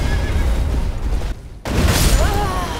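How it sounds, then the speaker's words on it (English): Horse in the video game Elden Ring gives a short neigh amid loud battle noise and booming impacts, with a brief dip to near quiet in the middle. "By the way, my horse is named Hal."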